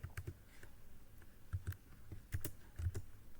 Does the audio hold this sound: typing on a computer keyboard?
yes